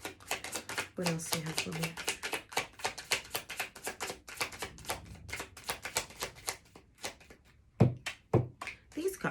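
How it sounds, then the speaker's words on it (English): Tarot cards are shuffled in quick riffling bursts, a rapid crisp series of card snaps close by with a few heavier taps, while someone talks over them. "These cards are hard sometimes to shuffle."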